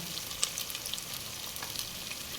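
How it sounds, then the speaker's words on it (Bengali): Garlic and cumin paste fry in a pan with a soft, continuous sizzle and faint crackles, plus a brief stir or tap near the start, fairly quiet and close with no talking. "এখন দেবো রসুন আর জিরা বাটা"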